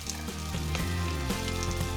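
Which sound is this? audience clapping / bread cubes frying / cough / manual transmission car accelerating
bread cubes frying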